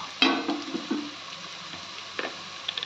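Egg biryani made with regular rice being stirred in a pot, a few close scraping and clattering strokes over a faint sizzle, then quieter light taps.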